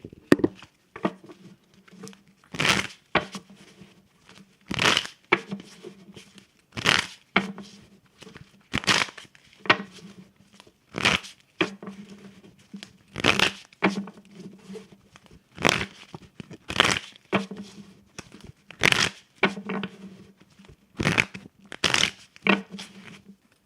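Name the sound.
shuffling tarot cards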